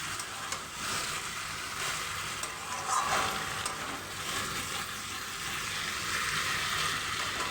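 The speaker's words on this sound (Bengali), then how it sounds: "মশলার সঙ্গে খুব ভালো করে আমার কষানো হয়ে গেছে।" New potatoes frying in a pan with spices for aloo dum, sizzling steadily and close while a spoon scrapes and stirs through them.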